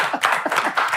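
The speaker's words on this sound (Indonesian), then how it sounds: "Tepuk tangan untuk Faisal Siregar." A crowd claps to welcome Faisal Siregar onto a talk show, giving a brief, close, lively round of rhythmic hand claps lasting about a second, with no speech.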